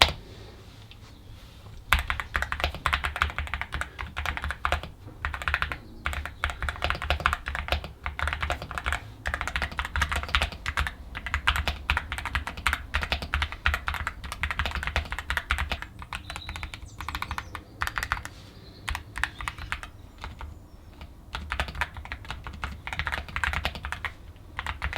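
Yunzii AL66 mechanical keyboard being typed on steadily, a dense run of crisp close-up keystroke clicks and clacks with no voices.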